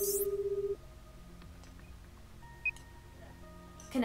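Phone dialing tones from a video game as a call is placed to a newly bought phone: a steady low electronic tone, then a brief bright beep mid-way and a rising chime at the end, fairly quiet throughout.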